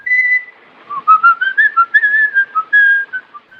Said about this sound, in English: highlighted in the ever-present whistling of our twisted killer